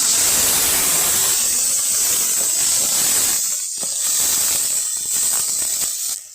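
Garlic paste and onion paste hit hot oil with a loud, hissing sizzle that starts strong, then settles into an uneven crackle with brief lulls, heard close and alone.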